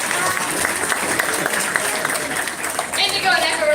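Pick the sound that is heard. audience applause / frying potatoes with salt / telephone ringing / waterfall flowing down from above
audience applause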